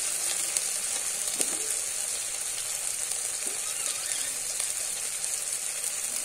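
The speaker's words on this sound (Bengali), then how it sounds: "আমি কিন্তু ভালো করে আদাটা কিন্তু একটু কষিয়ে নিয়েছি।" Ginger frying in a pan with ground cumin and coriander added, a steady close sizzle with faint stirring scrapes and no voices.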